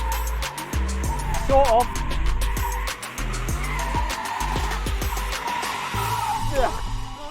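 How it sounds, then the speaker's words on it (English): An Audi RSQ8 SUV with stability control switched off, its engine revving hard as the tyres squeal and scrabble sideways on a dusty surface, with someone talking over it. "I'm going to see if it'll do some skids"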